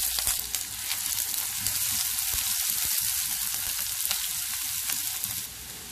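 Chopped onion and green chili fry in oil in a pan, a loud, close, continuous sizzle with crackling bursts that eases slightly at the very end.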